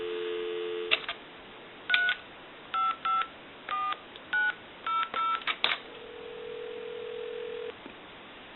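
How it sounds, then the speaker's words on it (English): A landline telephone on a repair line: a steady dial tone followed by a rapid string of touch-tone keypad beeps, then a single held tone, clear and close with no talking. "So we'll go ahead and make that call. Give you some dial tone"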